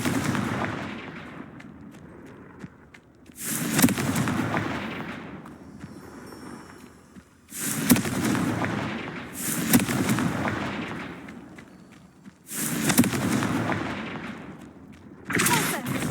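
Confringo blasting spell explosions in the Hogwarts Legacy video game, four loud separate bursts spaced a few seconds apart, each fading out before the next.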